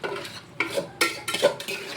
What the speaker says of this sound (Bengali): দই দিয়ে আর একটু ভালো করে নাড়িয়ে নেবো